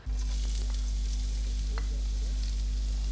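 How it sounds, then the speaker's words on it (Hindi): Finely chopped onion fries in hot oil in a pan, giving a steady, even sizzling hiss over a constant low electrical hum, with no talking. "एक पैन में तेल गरम कर लें आप, और तेल गरम होने के बाद इसमें हम डालेंगे बारीक कटा हुआ प्याज।"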